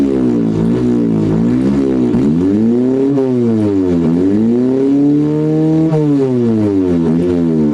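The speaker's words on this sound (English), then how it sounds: "now we have the engine running, and I can rev the engine." A simulated car engine in a Godot-built video game revs repeatedly, its loud harmonic drone rising and falling in pitch through several sweeping throttle blips with no talk over it.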